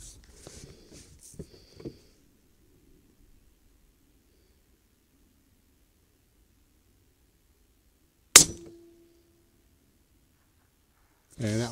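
A single sharp, cracking rifle report with Tula 62-grain hollow-point ammunition cuts through a quiet long-range setting at 1000 yards, preceded by brief faint sounds and followed by another abrupt noise at the end.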